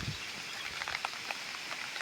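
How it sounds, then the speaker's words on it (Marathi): Rain falls on a farm field in the Konkan countryside, a steady, soft patter of drops with occasional sharper taps, fairly faint and distant, with no voices. "खूप पाऊस पडतोय."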